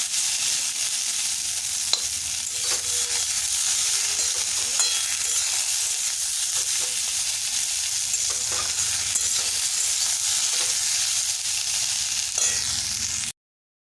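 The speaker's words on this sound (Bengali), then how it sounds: "এবারে ঢেঁড়সটা আলুর মধ্যে ঢেঁড়সটাকে তুলে দেব, দিয়ে ভালো করে আলু আর ঢেঁড়সকে কষে নেব" Okra and potatoes are stir-fried together in a pan, making a continuous close sizzle with spatula scrapes and stirring, without talking, until the sound cuts off abruptly at the end.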